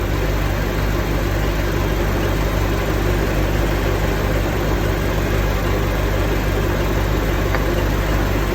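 A boat's outboard motor runs steadily during winterizing, warming its oil with flushing fluid in it, a constant loud droning hum with no change in pace and no voices.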